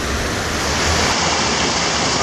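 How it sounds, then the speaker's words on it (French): Dense, constant rushing of a mountain stream tumbling over rocks in a narrowing gorge, loud and close with no pauses or voices. "Le ruisseau est en train de s'encaisser et de s'élever."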